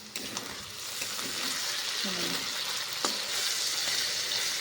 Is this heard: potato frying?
yes